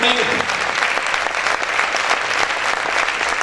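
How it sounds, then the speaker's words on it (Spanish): Loud, continuous applause from a church congregation fills the room, many hands clapping together in a thick, even roar throughout. "Vamos a aplaudir fuerte al Rey en este momento"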